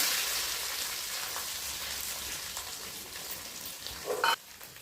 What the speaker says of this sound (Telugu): ఆయిల్ అయితే హీట్ అయింది కదా ఇక ఆవల జీరకర వేసేసుకుందాం అలాగే పచ్చికరివేపాకు వేసేసుకుందాం అలాగే ఆనియన్స్ వేసేసుకుందాం